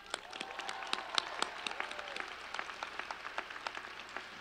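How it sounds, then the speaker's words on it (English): An audience applauds at a stadium graduation ceremony with a fairly distant, sustained patter of many hands clapping. The clapping is steady and dense and carries on throughout. "Let's give them a big round of applause."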